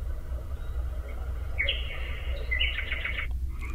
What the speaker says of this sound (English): Bird sounds